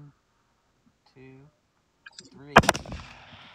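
Rifle shots fired at a distant coyote outdoors, following soft talk and a countdown, a loud close crack followed by a second sharp report and rolling echo.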